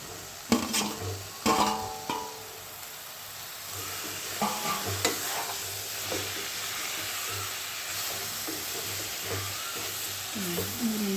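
Eggplant masala curry frying and being stirred in a pan, a soft steady sizzle broken by several sharp spoon scrapes and clinks against the pan.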